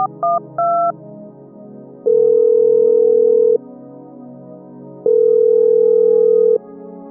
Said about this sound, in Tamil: நம்மால் எங்க இருக்கான்னு ஃபோன் பண்ணி பார்ப்போம்